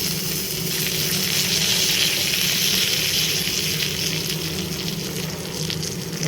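Green chillies and tamarind fry in a pan with a steady, close hiss and sizzle, cooking for a drumstick leaf chutney; the crackling sound runs continuously with no voices over it.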